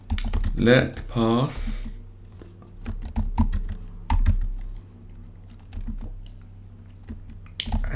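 Computer keyboard keys clatter in quick irregular bursts as code is typed for a SwiftUI app, close and clear, following a brief spoken phrase at the start.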